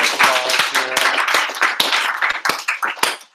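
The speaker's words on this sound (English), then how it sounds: "And so let's just give Kim a round of applause here." Scattered clapping from a small group, uneven sharp claps close by that thin out toward the end, with a voice briefly audible among them.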